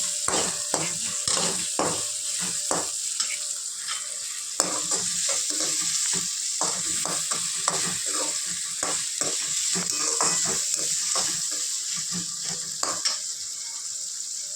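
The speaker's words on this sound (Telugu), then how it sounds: "మనం 4 పక్కల ఇలా కలుపుకుంటూ కింద అడుగంటకుండా చూసుకోవాలి" Kandagadda pulusu curry, an elephant-foot yam stew, stirred steadily in a pan, giving a continuous sizzle with frequent scraping strokes and light clinks of the spoon against the metal, close and fairly loud, with no talking.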